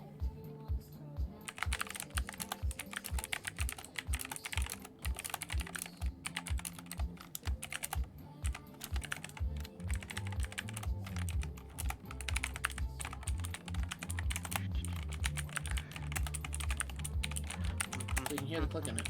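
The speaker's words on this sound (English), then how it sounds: "Let's see some typing." Someone typing on an old clicky computer keyboard, a dense stream of sharp, close key clicks in quick, uneven bursts that continues throughout, with a little low background noise behind it.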